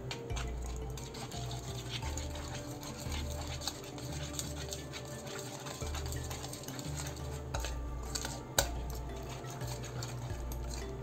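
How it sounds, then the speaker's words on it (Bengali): Fish roe is whisked in a bowl with salt and turmeric, giving steady scraping and clinking of utensil against the bowl in quick repeated strokes, close and fairly loud throughout. "এবার আমি এটাকে খুব ভালো করে ফেটিয়ে নেব, নিয়ে তারপরে আমি ভাজব"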